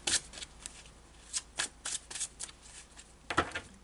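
Tarot cards shuffled and drawn by hand, a series of soft, papery flicks and snaps scattered across the moment, with one sharper slap near the end; quiet and close with no talking.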